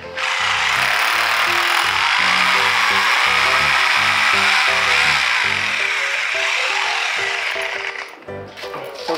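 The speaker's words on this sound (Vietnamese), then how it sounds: "chúng ta sẽ khoan con vị trí thứ 4" A power drill bores screw holes into a steel fire door during installation, loud stuttering bursts of drilling repeated for most of the stretch before easing off near the end.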